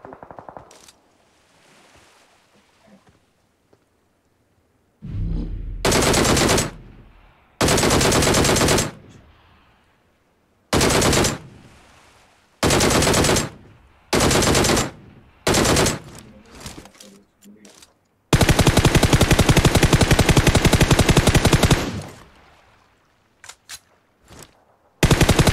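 Bursts of automatic gunfire in the mobile battle-royale game PUBG Mobile, loud and close, firing in several separate volleys followed by a long sustained stream of shots that wrecks a car, with quiet gaps and faint talk between.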